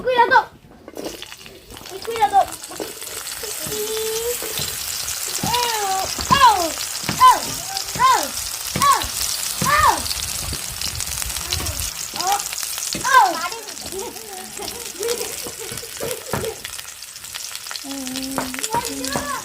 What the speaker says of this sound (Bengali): এই তেলে সজনে ডাঁটা ভেজে নেব।